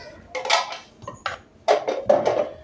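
Keema kabab mixture of minced meat, garam masala, salt and crushed chilli being mixed in a bowl, giving a few bursts of scraping and clinking against the bowl separated by short pauses, close and moderately loud.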